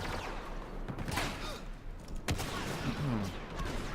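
Busy video-game firefight from Star Wars Battlefront, with overlapping blaster shots, a sharp crack near the middle and mechanical whirs and creaks, continuous and fairly loud with no talk.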